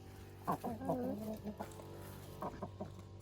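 Broody Brahma hens clucking close by, a few short throaty calls in a brief cluster, then a pause and a couple more clucks.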